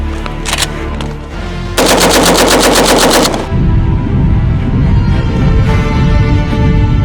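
An AK-105 rifle chambered in 7.62x39 fires on full auto during an airsoft match, short bursts at first, then one long loud rapid string of shots, followed by ringing echo and scattered noise.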